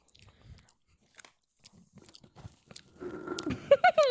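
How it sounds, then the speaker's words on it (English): Biting into a crumbly, chalky donut gives a close crunch with chewing, growing denser toward the end, with scattered small mouth noises before it and no speech. "I heard you crunch."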